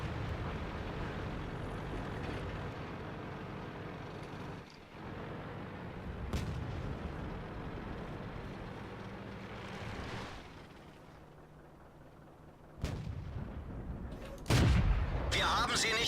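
Heavy tank cannon shots in World of Tanks: several deep booming blasts spaced out over a low continuous engine rumble, with someone talking over it.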